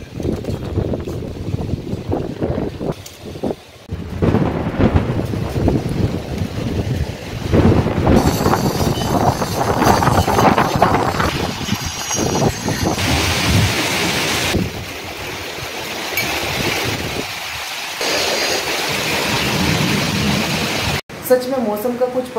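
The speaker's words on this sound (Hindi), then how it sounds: "इतना तेज़ तो तूफान आ रहा है और इतनी तेज़ मूसलाधार बारिश हो रही है" Storm with heavy torrential rain in a home setting, a loud, continuous roaring wash of rain and wind that surges and shifts over about twenty seconds, with someone talking over it.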